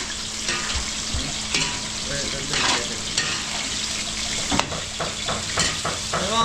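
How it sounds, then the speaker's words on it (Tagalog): Potatoes fry in a pan with a steady close sizzle and crackle, with occasional utensil scrapes and knocks against the pan. "So mga kabili, pa-fried ko lang yung ano natin. Arot sa patatas."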